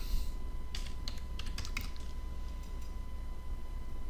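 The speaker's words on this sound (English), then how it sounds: "I can't type." Computer keyboard keys are tapped in a short, quick burst of clicks over a steady background hum, then the typing stops and only the hum remains.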